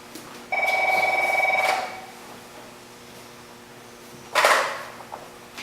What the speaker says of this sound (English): Would somebody get the phone, please?